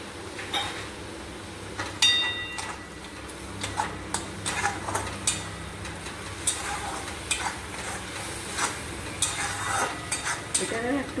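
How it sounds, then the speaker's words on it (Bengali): Teasel gourd curry fries in a pan with chili powder and spices while a spoon stirs it, scraping and clicking against the metal over a soft sizzle. "ভাজবো, 2-3 মিনিট ভেজে নেবো।"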